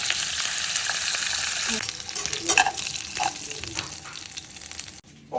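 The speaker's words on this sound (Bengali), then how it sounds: "এখন খেপসাতে দেওয়ার জন্য চিকেনটা একটু ফ্রাই করে নিচ্ছি" Chicken frying in pure cow ghee for Saudi kabsa, a loud close crackling sizzle with some stirring scrapes and clunks, easing off before cutting out near the end.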